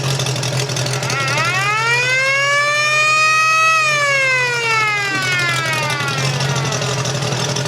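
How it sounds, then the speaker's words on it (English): A siren on a 1920s-inspired custom bike winds up, holds a rising wail, then falls away, loud and close over a steady idling engine hum. "Siren."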